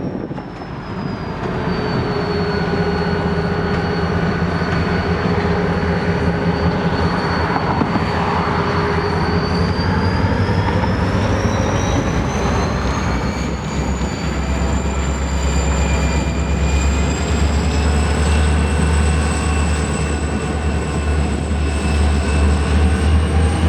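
Wheeling and Lake Erie GP35 diesel locomotives, including number 103, idle and move through a rail yard with a steady low engine rumble and a sustained high whine, loud and continuous throughout, with no talk.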